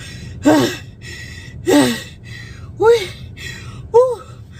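A voice imitates heavy, ragged breathing after climbing stairs in the cold, four loud strained gasping breaths spaced about a second apart, close to the listener with no other talk.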